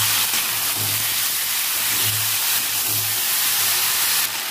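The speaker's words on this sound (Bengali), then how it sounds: "এর মধ্যে ছেড়ে রাখা আলু দিয়ে দেবো, লবণ দিয়ে দেবো। আলুগুলো একটু ভালো করে ভেজে নেব।" Potatoes frying in a pan with onion, green chili, tomato and salt, a steady close sizzling hiss running unbroken throughout, with no voices.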